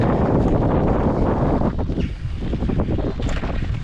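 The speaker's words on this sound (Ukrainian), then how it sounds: "такий вітер противний" Strong, steady wind buffeting the microphone during a bike ride in damp weather, a constant low roar, no voices.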